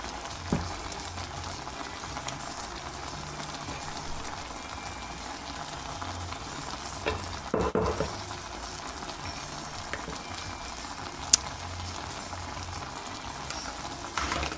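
Apples simmer in boiling sugar syrup for a three-star apple tart, giving a soft, steady bubbling and fizzing with occasional small pops, close and continuous, with no voices.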